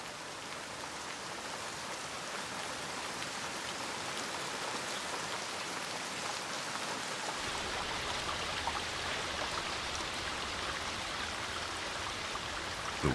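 Steady rain falls and drips from round, curved leaves, a dense, even patter of drops close by that continues unbroken without any voices.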